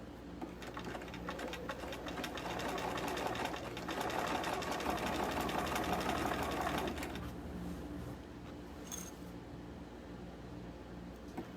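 Bernina sewing machine running a wide zigzag stitch across layers of tulle and cotton lycra skirting, a fast continuous mechanical whir close by for about seven seconds before stopping, leaving quiet room noise.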